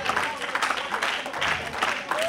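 A congregation in church applauding the Lord during worship, a steady wash of clapping from a crowd that lasts throughout, with a voice faintly over it.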